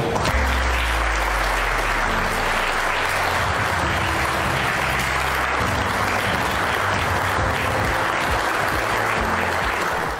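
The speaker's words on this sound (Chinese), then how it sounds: "掌声经久不息" Prolonged applause fills the Czech Senate chamber after a speech by Taiwan's legislative speaker. It is a thick, continuous wash of many hands clapping that stays loud from start to finish.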